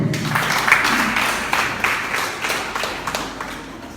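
An audience at a Nigerian public lecture gives a round of applause for a speaker, with sustained, full-bodied clapping from many hands that holds steady and fades slightly toward the end.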